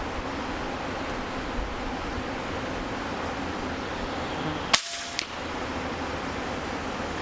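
An RTI Arms Mora .25 caliber air rifle with a free-floating barrel fires a slug outdoors on a windy day: one sharp, close crack midway, then a faint click, over a steady breezy hiss.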